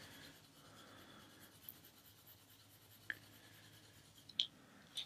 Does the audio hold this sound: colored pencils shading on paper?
yes